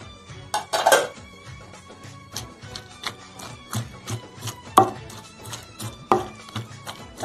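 Roasted eggplant being mashed by hand together with chopped tomatoes and onions, a series of irregular dull knocks and clatters against a pot, close and moderately loud.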